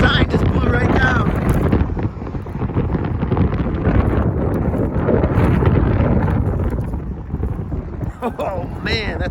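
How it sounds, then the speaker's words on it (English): Strong outdoor wind roars and buffets the microphone in heavy, continuous gusts, loud and close, while people talk over it. "Oh my god, it's super windy out here."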